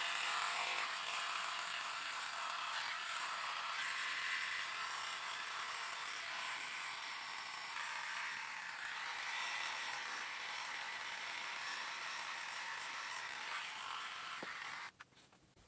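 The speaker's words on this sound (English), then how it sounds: "I don't know how charged the shaver is." Electric shaver buzzing steadily and close for about fifteen seconds, a bright continuous motor whine that holds nearly constant before cutting off abruptly at the end.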